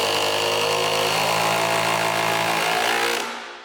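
An SDS hammer drill runs at full power with a loud, continuous rattling hammer-drilling roar close up, holding steady for several seconds before winding down and stopping.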